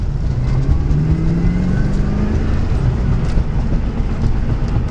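A Honda Clarity plug-in hybrid accelerating through first and second gear before jumping to fourth, heard as a loud, steady drone with rising engine tones shifting in pitch under constant road and wind rumble.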